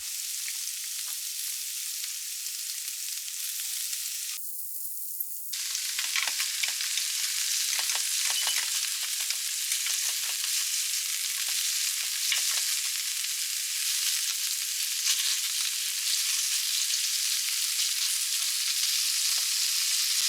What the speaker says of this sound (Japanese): 先に茎の部分を炒めます。